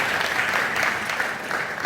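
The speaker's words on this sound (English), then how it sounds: "Kenyans, you must clap for yourselves" A crowd at a Kenyan political rally breaks into sustained applause, dense steady clapping filling the whole stretch at a fairly loud, even level with no clear speech.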